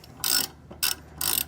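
A 5/8 wrench threading the hitch pin on a Saris bike rack gives three short, bright ratcheting clicks in quick succession, close up and alone.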